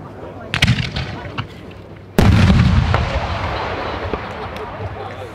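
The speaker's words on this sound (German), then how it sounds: "in der Spezialversion Blitzbombe 400 BL. Kaliber 75 mm." A Mohl Feuerwerk Blitzbombe 400 BL 75 mm firework shell bursts in one loud, sharp blast with a rolling decay, preceded by smaller crackling pops, with voices audible in the background.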